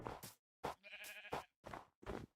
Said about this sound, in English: Now let's go after the sheeps.